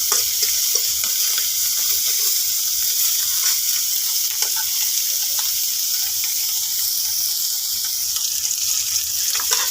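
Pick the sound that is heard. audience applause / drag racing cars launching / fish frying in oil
fish frying in oil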